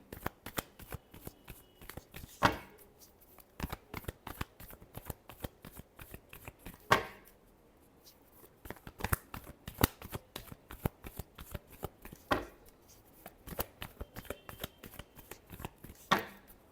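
Tarot cards are shuffled by hand in quiet, close riffles and rapid patters, with a few sharper taps as the deck is squared, and no talk over them.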